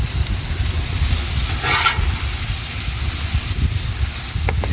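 Steak frying on a Blackstone griddle, a steady, close sizzle that runs throughout with a brief louder hiss partway through and a few faint clicks near the end.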